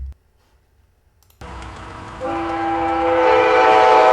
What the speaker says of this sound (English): we're going to try up close train horn